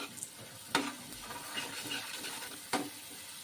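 Ground tomatoes go into spices frying in a pan for a Rajasthani dhaba-style sev tomato curry, giving a soft, steady sizzle broken by two sharp clatters of a spoon against the pan.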